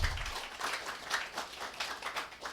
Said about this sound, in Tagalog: Itagaan nato og buhi nga palakpak ang atong Dios.